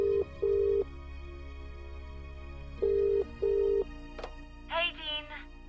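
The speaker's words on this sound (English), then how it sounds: "Let's just try making phone calls again" A phone call is placed in a video game: repeated electronic dialing beeps in short bursts, a click, then a trilling ring near the end, all close and clear over a low background hum.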